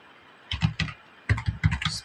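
Quick bursts of typing on a computer keyboard, two short clusters of crisp close key clicks with a brief pause between them.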